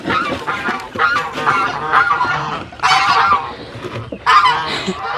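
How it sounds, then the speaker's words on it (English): Several geese honk loudly and repeatedly, close by, in overlapping bursts with short pauses between calls. "Now the geese are coming to Rudy's pool."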